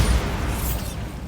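Bombarda blast spell going off in the Hogwarts Legacy game, a dense low rumbling burst that fills the short moment and slowly fades, loud and close with no voices.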